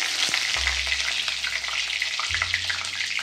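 Cumin seeds and a bay leaf sizzle in hot oil in a wok for a spicy Marathi brinjal dish, a loud, close, continuous crackling fry with a low rumble underneath.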